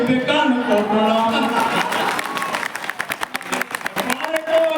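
Audience applause at a Hindi poetry gathering (kavi sammelan): a dense wash of clapping with cheering, tapering into scattered individual claps, under and between a voice talking over it.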